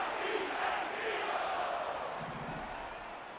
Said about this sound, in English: The Eagles actually cheering for something after that big play.